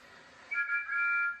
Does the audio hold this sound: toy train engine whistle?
yes